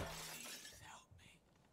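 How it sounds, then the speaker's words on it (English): Glass windows shattering in the Far Cry 5 video game: a loud burst of breaking glass with tinkling shards falling and scattering after, fading into quieter debris. "I have to show you how safe everything is first by smashing all these windows."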